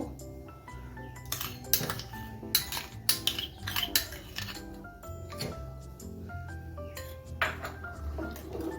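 Curd is whisked with condensed milk in a bowl for steamed yogurt, making quick, irregular metallic clinks and ringing taps against the bowl, close and fairly loud, with no talk.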